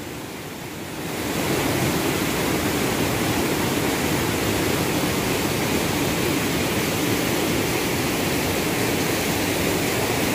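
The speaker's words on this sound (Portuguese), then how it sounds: "Cachoeira Santa Luzia, em Viçosa, Alagoas" Santa Luzia waterfall in Viçosa, Alagoas, roars as a steady, loud, broadband rush of falling water that swells in during the first second and then holds constant with no voices.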